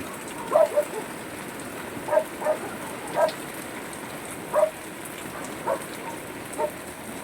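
Heavy typhoon rain pours steadily beside a river, a constant broad hiss with several faint dog barks breaking through at intervals.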